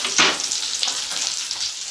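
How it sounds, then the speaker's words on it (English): A hamburger sizzles and hisses continuously in a pan, with a brief louder flare near the start, then a steady frying crackle throughout. "I'm cooking a hamburger and rice and brown gravy there"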